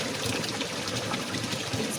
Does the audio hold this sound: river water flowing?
yes